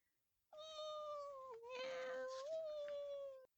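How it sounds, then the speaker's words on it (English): A cat gives a single long, fierce mew lasting about three seconds, loud and close, with a strained, wavering tone that dips midway and then rises again before cutting off. "she notices that the mewing increases fiercely"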